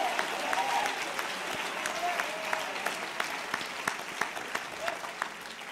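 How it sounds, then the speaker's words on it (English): Church audience clapping hands together for several seconds at a preacher's urging, a dense, even applause from a large room with sharper individual claps poking through. "Stop being proud and clap your hands for 5 seconds and thank him for something."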